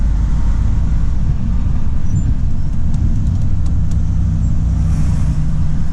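A delivery lorry reverses into a loading bay, its engine a loud, close, continuous rumble that stays steady throughout with no talking.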